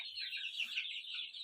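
Brahma hens and chicks in a coop keep up a continuous stream of high peeping and soft clucking, moderately close, with no voices.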